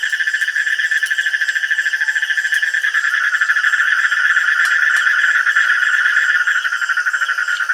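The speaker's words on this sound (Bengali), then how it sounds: "বাইরে ঝিঝি পোকার ডাক মাঝে মাঝে ব্যাং ডাকছে" Frogs croak and crickets chirp steadily together outdoors at night beside an outdoor kitchen, a dense continuous chorus of high trilling with no speech over it.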